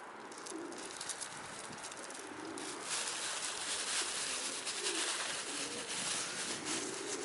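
Pigeons coo in a low, repeated murmur at an outdoor gathering of birds that includes a single racing pigeon, with steady hiss and background noise throughout.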